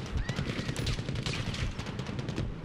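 Sustained automatic gunfire from the BAR M1918A2 and other weapons in Battlefield V on PS4, loud, dense overlapping bursts filling the whole moment of a close firefight.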